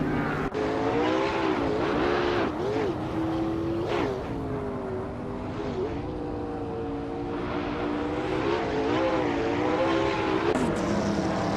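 Donkervoort D8 GTO racing alongside other race cars in a racing game: loud, continuous engine whine rising and falling through gear shifts, with several engines layered close together and no talking.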